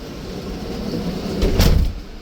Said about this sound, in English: We're shutting the door because it's like 90-some degrees outside.